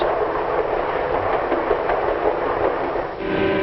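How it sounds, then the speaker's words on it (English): Passenger train from 1955 running through farm country, heard as a steady, loud rumble of rolling stock with faint rhythmic clatter throughout, briefly dipping near the end. "Now the train's hurrying through farm country."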